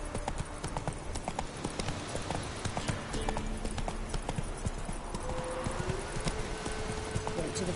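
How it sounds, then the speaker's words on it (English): Horse hooves clip-clopping at a steady walking pace in The Witcher video game, under a constant bed of game ambience with faint voices mixed in. "Whoa there, Roach."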